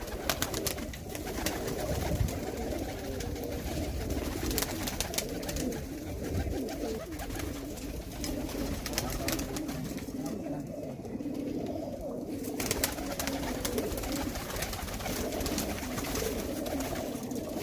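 Pigeons coo on a Faisalabad rooftop in a breeder's flock, a steady, overlapping chorus of soft murmuring calls close by over constant outdoor background noise.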